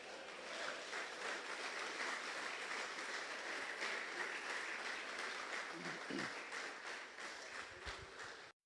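Congregation applauding at an evangelical church service, a dense, steady wash of many hands clapping that holds at an even level for several seconds with no break.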